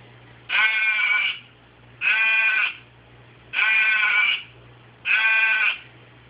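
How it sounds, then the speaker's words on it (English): Four evenly spaced bleats from a toy sheep, each about a second long, with a faint low hum between them and no talking. "this guy is a sheep, and he makes sheepy sounds."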